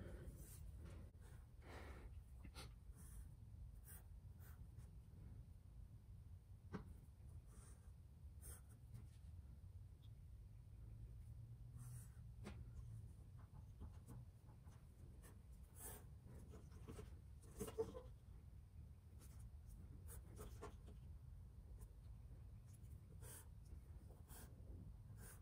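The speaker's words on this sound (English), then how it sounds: "So I'm gonna use my ruler to plan it out, but I'm definitely not gonna be using the ruler to draw the entire thing." A pencil scratches softly along a ruler while planning an abstract snake design, faint intermittent strokes over a quiet room hum with no talking.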